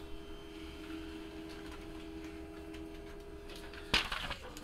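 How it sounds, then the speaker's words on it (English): A printer runs quietly with a steady mechanical hum and whir, ending in a sharper clunk and rattle near the end as the paper feeds through; no speech. "Come on, printer."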